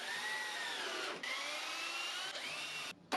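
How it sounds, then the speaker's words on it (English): A power drill bores countersunk pilot holes into an MDF chair seat base, a steady whining drone that runs continuously with two brief dips before cutting off near the end, close and loud with no talking. "I drill the countersunk pilot hose to avoid cracking the MDF."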